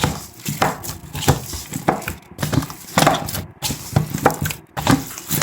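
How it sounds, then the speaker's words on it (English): Dhal puri dough, just oiled, is kneaded by hand in a bowl, producing repeated squelching presses and thumps at a steady, fairly close working rhythm, with no talking. "I'm going to knead this in good"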